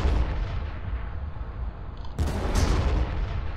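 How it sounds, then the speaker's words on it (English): Artillery fire in the Warhammer 40k Armageddon video game: a low rumbling battle bed, then a sudden loud barrage of booming shells and blasts that keeps roaring to the end. "we can just hit them with a bunch of artillery"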